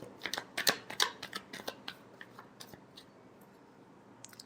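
Tarot cards being shuffled by hand, a quick run of soft papery riffles and flicks in the first two seconds that then thins to a few faint taps, close and quiet, with no voices.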